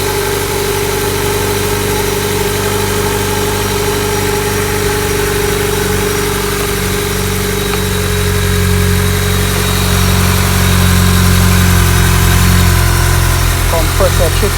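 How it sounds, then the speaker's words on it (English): A 2016-2019 Honda Accord engine starts and settles into a steady idle, a loud, continuous low hum that grows slightly fuller toward the end, heard close with no talking. "Engine start."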